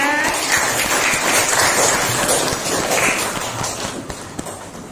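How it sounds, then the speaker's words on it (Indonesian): Dense, steady applause fills a classroom after a student group's history presentation, loud and continuous before easing slightly toward the end. "Beri tepuk tangan untuk kelompok 2"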